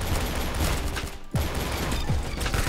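Rapid gunfire crackles in Roblox Arsenal, a busy stream of shots with a brief gap in the middle, loud and continuous with no talking.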